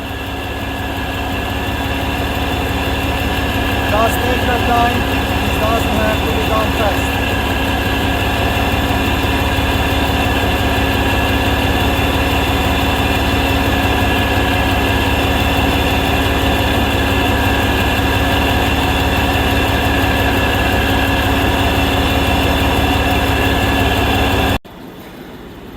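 A Ford Mustang engine idles loudly during an A/C recharge, giving a steady, droning hum with a constant tone that runs without a break for about 24 seconds before it drops away sharply at the end.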